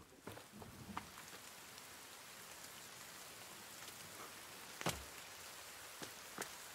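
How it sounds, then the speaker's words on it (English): Faint, steady rain in the survival video game The Forest, a low continuous hiss broken by a few sharper, louder hits. "And it's raining."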